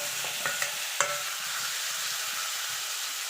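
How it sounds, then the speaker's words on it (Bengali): Eggplant and tomato frying in a pan with spices and dried red chillies, a steady soft sizzle with a few brief stirring clinks near the start. "এবার বেগুন আর টমেটোটা দিয়ে দেবো"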